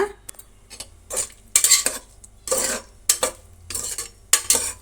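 Paneer frying in a pan while a metal spoon stirs it, giving repeated loud scraping and clinking strokes against the pan over a faint background sizzle.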